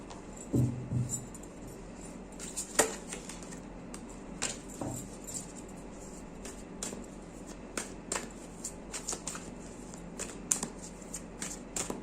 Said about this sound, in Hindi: बाद में इसको शफल करेंगे।